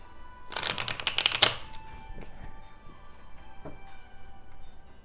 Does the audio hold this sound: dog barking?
no